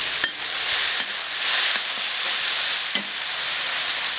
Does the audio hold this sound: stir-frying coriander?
yes